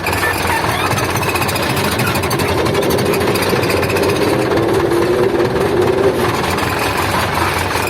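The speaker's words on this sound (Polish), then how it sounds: "puszczamy sprzęgło i ciągnik rusza. Bez szarpnięcia, bez nic, bez spadku obrotów." Ursus C360 tractor with a Turbomatic hydrokinetic clutch pulling away in fifth gear, a loud, steady, rattling diesel drone that holds without dips or jerks throughout.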